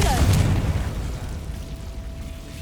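A Confringo blasting spell from Hogwarts Legacy goes off as one sharp, booming burst at the very start. A dull low rumble lingers afterward and then fades out.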